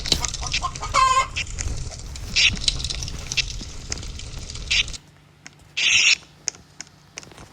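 Chicken clucking in the Roblox game Brookhaven, a few short, sharp clucks over busy game noise and background chatter, with one clear cluck standing alone near the end after the noise drops away.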